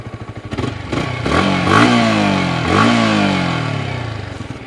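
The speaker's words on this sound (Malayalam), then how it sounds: "നല്ലൊരു എക്സോസ്റ്റ് നോട്ട് തന്നെയാണ് V3യിൽ യമഹ ഉൾപ്പെടുത്തിയിരിക്കുന്നത്." A Yamaha R15 V3 motorcycle revs twice, its exhaust note rising sharply and then falling away each time over a steady idle burble, loud and close, with no voices.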